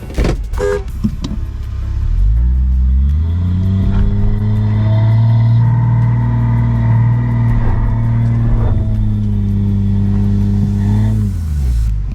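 Two Subaru cars, a Forester and an older, bigger-engined Outback, strain against each other in a tug of war, their engines rising in a loud, sustained drone with pitch climbing and holding steady, then easing off near the end.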